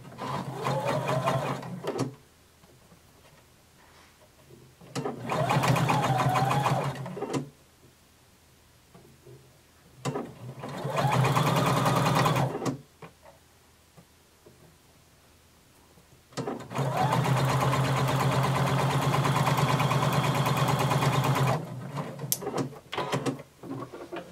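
A domestic sewing machine stitches a garment lining in several steady whirring runs of rapid needle motor noise, with pauses between, close and clear.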